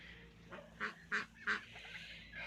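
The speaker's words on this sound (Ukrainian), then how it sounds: "Ось мої гусі, гусі." Three loud goose honks in quick succession, close by, over a low steady background hum.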